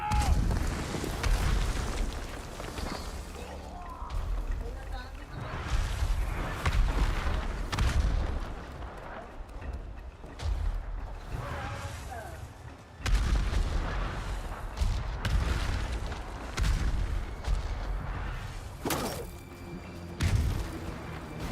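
Explosions and cannon fire in the samurai video game Ghost of Tsushima, a dense, continuous barrage of loud booms and blasts with repeated sharp bursts, heavy and close throughout.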